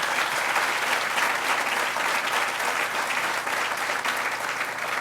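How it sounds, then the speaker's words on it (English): Steady audience applause for Mayor Brown at a groundbreaking for a Hispanic heritage cultural institute in Buffalo, a dense, even wash of clapping that holds at full strength for the whole span without a break. "Let's give a round of applause to Mayor Brown"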